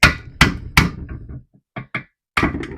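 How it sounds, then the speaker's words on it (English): Hammer blows tapping out a rear subframe bush on a Mk1 Audi TT (8N), close and loud: three hard strikes with ringing decay, a pause, two lighter taps, then another heavy blow. "we can just get an edge on that and hammer that through"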